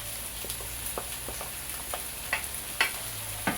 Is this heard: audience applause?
no